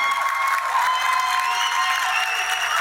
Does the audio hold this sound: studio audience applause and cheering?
yes